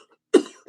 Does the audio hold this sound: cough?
yes